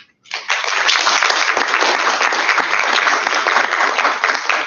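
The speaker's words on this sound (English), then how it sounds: "I want a big shout out and an applause for my Europe team" Loud, steady audience applause at a veterinary student congress, starting abruptly after a brief silence and holding at full strength for several seconds.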